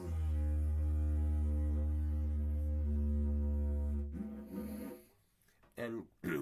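A didgeridoo drones with a deep, sustained buzzing tone for about four seconds, then breaks into shorter rhythmic pulses and puffs of breath.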